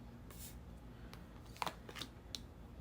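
Thick tarot card deck being shuffled, soft papery riffles and slides with a few sharper card snaps, fairly quiet and close against a faint steady hum.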